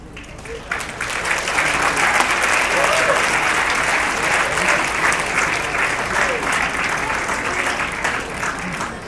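Sustained applause from a large audience at a public event honoring Angela Davis, dense steady clapping filling the whole stretch with a slight swell early on, loud and close, no talk over it.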